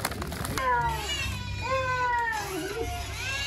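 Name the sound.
cat meowing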